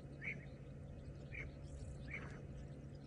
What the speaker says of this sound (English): You can hear the crested barbet in the background.